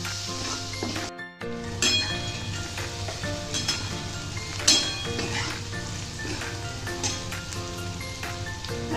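Soaked moong dal mixture sizzles softly in a pan while a utensil clinks and scrapes against the metal, with a steady low hiss of frying and scattered sharp taps throughout.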